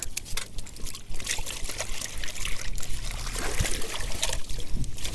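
Water is rinsed through a fishing keepnet to wash off fish slime beside the Burshtyn reservoir after a night of bream fishing. It makes a close, steady splashing and trickling that runs unbroken throughout.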